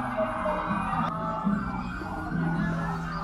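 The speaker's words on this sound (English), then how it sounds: "I hope you guys can hear those sirens in the background." Police and ambulance sirens wail in a street in Añasco, Puerto Rico, steady and fairly loud against traffic and crowd murmur, with a voice briefly heard underneath.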